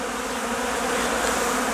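Honey bees leave the hive in February, filling the air with a dense, continuous buzzing hum, close and even throughout.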